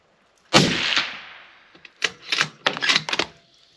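A hunting rifle fires copper Outfitter bullets at a range, one sharp loud report followed by a spread of clattering clicks and bangs as it is worked, close and outdoors, with no talking.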